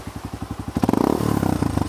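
Fratelli Xe 125 motorcycle with a full system exhaust, close by, its engine pulsing in a steady rhythm, then revving harder as loose parts rattle and buzz along with it.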